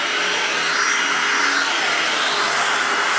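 A Hoover WindTunnel Anniversary Edition self-propelled upright vacuum cleaner running on carpet, a loud, steady airy roar with a constant whine, sustained without pause and no talking.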